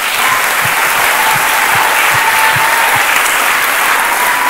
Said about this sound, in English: one more big round of applause for our choir